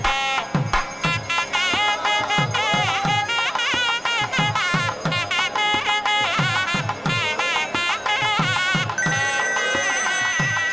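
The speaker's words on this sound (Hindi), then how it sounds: "देखो तुम्हारे पापा का फोन आ रहा है।" A melodic phone ringtone plays continuously with a rhythmic beat underneath, loud and unbroken.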